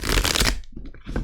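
A tarot card drawn from the deck makes a quick papery riffle and slide, with a soft brush of cards after a brief pause, close and clear.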